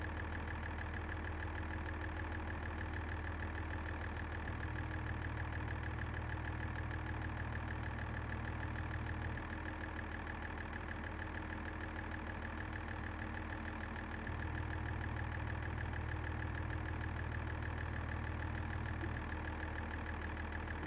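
A tractor engine idles steadily under heavy load, a continuous low drone with a deeper tone that rises and falls in long cycles throughout.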